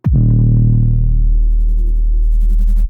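A deep, heavily distorted drum and bass synth bass note made in Serum sustains for a few seconds, loud and buzzing with gritty harmonics, no voices.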